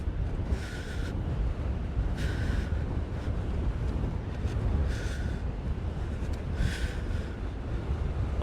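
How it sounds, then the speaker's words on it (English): Wind buffeting a Sennheiser wireless clip-on lavalier mic fitted with a wind cover, a steady low rumble outdoors with periodic stronger gusts swelling and fading, no voices. "Now I'm facing the wind directly."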